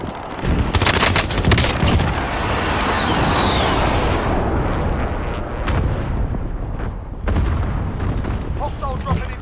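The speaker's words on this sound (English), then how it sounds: "Be advised, friendly precision airstrike inbound." Explosions and gunfire fill the Call of Duty Warzone match as a precision airstrike lands, a dense, continuous barrage of booms and bursts with sharp transients, a radio-style voice briefly heard over the din.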